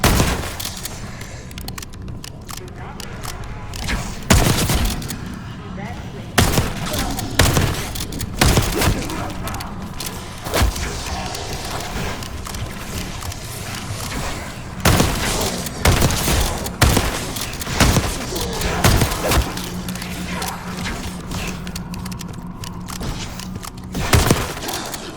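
Gunfire in Call of Duty Black Ops 6 comes from lower floors: sharp bursts and single shots crack irregularly over half a minute, some heavy booms among them, mid-distance and fairly loud, with occasional talk under the action.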